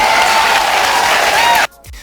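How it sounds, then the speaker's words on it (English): A studio audience at a paternity-test talk show claps loudly and continuously in a thick wash of applause, which cuts off abruptly near the end. "everybody's clapping because that's the right answer"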